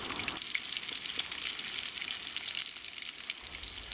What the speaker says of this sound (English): Right, we've got our burgers on.